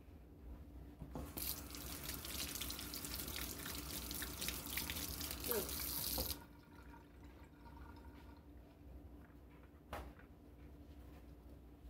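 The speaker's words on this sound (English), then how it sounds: "Let me rinse my fingers." Tap water runs steadily for about five seconds as fingers are rinsed in a kitchen sink while baking banana bread, then shuts off abruptly, leaving faint drips and a soft knock near the end.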